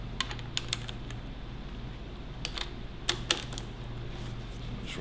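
A fork cap tool working on a motorcycle fork cap, giving a series of light, sharp metallic clicks and ticks at an irregular pace. A low steady hum sits beneath them, and no one speaks.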